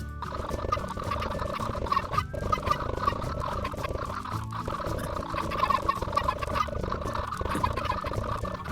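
Crowd of chickens clucking and squawking continuously in Minecraft as thrown eggs hatch, a dense, steady layered din with no talking.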